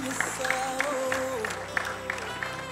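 Guests at a dowry introduction ceremony clapping in a steady rhythm, moderately loud, over music and voices.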